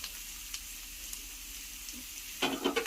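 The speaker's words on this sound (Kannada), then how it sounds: "ಎಲ್ಲಾನು ಈ ಥರ 2 ಮಿನಿಟ್ ಈ ಥರ ಫ್ರೈ ಮಾಡ್ಕೊಳ್ಳಿ." Carrots and capsicum frying in a pan for egg fried rice: a soft steady sizzle with a louder burst of stirring and crackle near the end.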